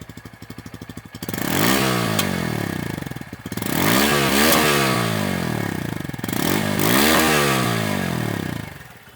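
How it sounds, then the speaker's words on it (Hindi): Revving from a Bajaj Pulsar P150 motorcycle with an underbelly exhaust, in three separate throttle blips that climb and fall, each held for a couple of seconds, with the engine idling between them at close range. "ये बिल्कुल अंडर बेली है और साउंड भी बड़ा प्यारा है"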